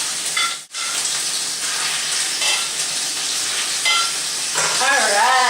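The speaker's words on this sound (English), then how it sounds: "Alright, listen to that sizzle." Meatballs brown in hot olive oil for pasta with tomato cream sauce, a loud, steady close-up sizzle and crackle with a brief dip early on and a few stirring scrapes.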